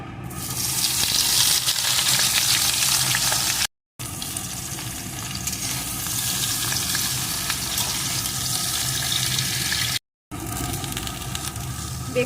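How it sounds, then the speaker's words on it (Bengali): Eggplant pieces fry in hot oil for a vegetarian dish, giving a steady, fairly loud hiss and sizzle that runs without talk and is cut by two brief silent breaks. "এখন আমি বেগুনের টুকরোগুলোকে দিয়ে ভেজে নেব"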